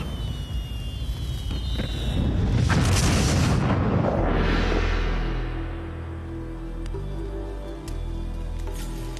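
A huge explosion swells into a roaring blast with a rushing whoosh, then settles into a deep low rumble that fades gradually, loud and close with no voices.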